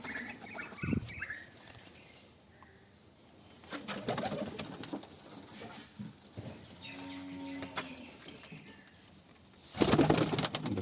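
Soft pigeon coos rise and fall over a faint background hum, with a few brief rustles and a louder burst of noise near the end.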